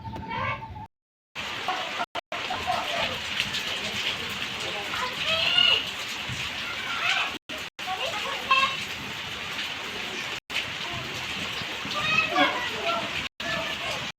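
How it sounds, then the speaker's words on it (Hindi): Steady rain falls in a village while people sit outside, a continuous hiss of drops on surfaces with children's voices and adult speech over it, briefly cut by short gaps. "अब बारिश हो रही है, मौसम थोड़ा ठंडा हुआ है।"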